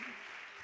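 An audience claps in a hall, a brief, faint and distant patter of applause mixed with a soft background voice.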